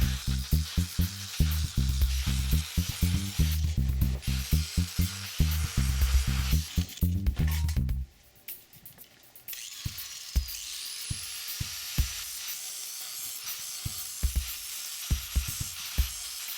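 A 4.5-inch angle grinder with a cutoff wheel cuts slots into a steel socket, giving loud rhythmic bursts of grinding that pulse for about eight seconds, then a quieter steady whine with scattered clicks.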